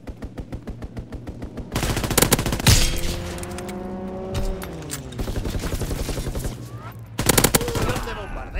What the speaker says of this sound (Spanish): ¡Ametrallamiento enemigo!